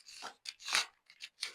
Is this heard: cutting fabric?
yes